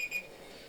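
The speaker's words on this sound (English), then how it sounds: "the timer going off" A timer goes off briefly, a faint high electronic beep tone at the start over quiet background.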